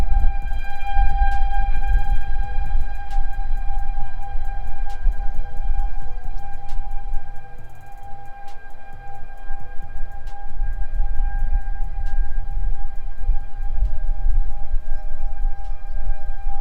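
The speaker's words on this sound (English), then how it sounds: "What's not cool is the ominous sound of the sirens, but you get used to them." Outdoor tornado warning sirens wail steadily in the distance, layered tones droning on with faint clicks and rumble, no voices.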